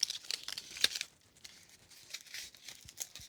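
Stiff hat-frame material for a gustoweh being folded back by hand, giving quiet, close crinkling and crackling rustles in short bursts.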